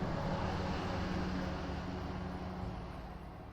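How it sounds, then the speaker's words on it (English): Steady broadband roar of a Speedwagon Foundation plane in flight from the JoJo game 7th Stand User, a continuous loud engine drone that slowly fades slightly toward the end, with no voices. "boarded a Speedwagon Foundation plane bound for Saudi Arabia"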